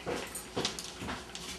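A dog whimpers and yips in several short, high, whiny bursts close by indoors, over soft background noise.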